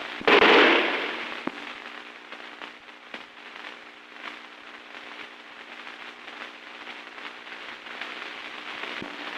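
A rifle volley from a firing squad in a 1930 film cracks out at once in a single loud burst, then fades into a long stretch of crackly, hissing old soundtrack noise.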